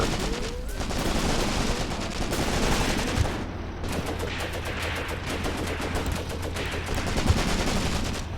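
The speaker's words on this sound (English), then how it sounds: "Here we go, incoming fire." Sustained gunfire in the WWII tactics game Graviteam Tactics Mius-Front: dense, continuous volleys of rifle and machine-gun shots with occasional louder bursts, steady throughout with no talking.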